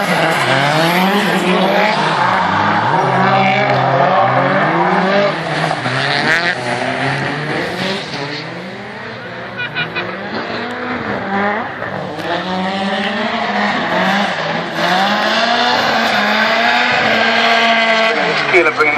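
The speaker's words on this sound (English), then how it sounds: "it's Keeler bringing the smoke machine there, surely" A drift car at a racing festival screeches through sustained tire squeal, its engine revving and wavering in pitch as it slides, loud and close; a commentator's voice runs over the noise.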